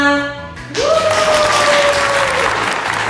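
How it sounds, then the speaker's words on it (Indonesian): A loud, dense round of audience applause breaks out and keeps going at a product launch event. A tone from a microphone or PA rings above the clapping, and a short voice or music is heard before the applause starts. "Beri tepuk tangannya semua"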